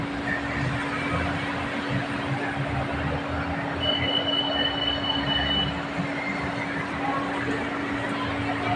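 BTS Skytrain Silom Line train at platform 3 of Saphan Taksin station in Bangkok, a steady rumble of a train moving through, with a constant electric hum and a brief high wheel squeal partway through.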